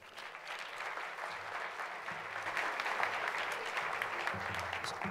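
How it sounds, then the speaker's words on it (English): An audience applauds steadily throughout at an inaugural address of a literature festival in Colorado, a dense, sustained wash of clapping that swells slightly toward the middle with no voices over it. "Please welcome him with a big round of applause."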